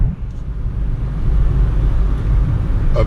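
A Peugeot Partner's automatic gearbox accelerates smoothly with a steady low engine drone and road rumble, and a faint shift is barely marked under the continuous hum.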